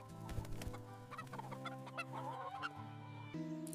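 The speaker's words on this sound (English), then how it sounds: "The chickens run to the fence, getting excited to see Monkey Farmer arrive" Hens at a coop fence cluck excitedly as they rush over, a cluster of close, busy clucks and calls alone with no talking.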